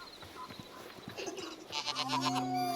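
A goat bleats in the video game Hytale, with short bird-like calls and a drawn-out nasal bleat rising toward the end, fairly faint.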